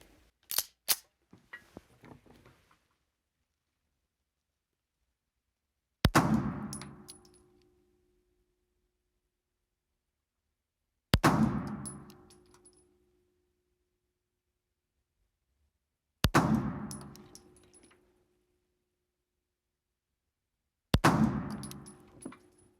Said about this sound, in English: Let's put some rounds down range and let's see where we're hitting on this target.